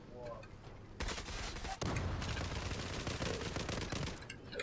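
Rapid automatic gunfire in the online shooter Zula, loud bursts of machine-gun fire running almost continuously, close up and dense.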